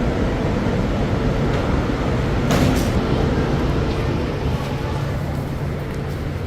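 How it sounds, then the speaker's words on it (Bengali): A bullet train on the Shenzhen to Beijing line pulls into a station platform, a steady loud rumble and rushing roar filling the clip with a brief swell midway, no voices over it. "এই যে বুলেট ট্রেন আসতেছে এটা সেনজেন থেকে বেইজিং যাবে"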